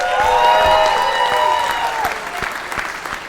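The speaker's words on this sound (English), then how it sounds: "Let's hear a round of applause for our music the entire night." Loud audience applause with cheering and a few whistles at a comedy festival in Yakima, Washington, with a crowd clapping steadily from a nearby vantage.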